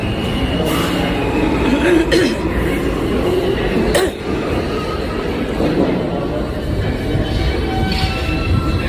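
A train pulls into a station on a morning commute, its steady rumble and rolling wheel noise filling the whole stretch, with a brief squeal and loud platform ambience under occasional voices.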